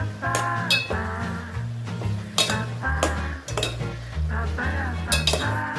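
A brinjal curry being stirred in a metal pan, with a spoon clinking and scraping against the pan in repeated strokes over a steady background hum, close and fairly loud, with no talk.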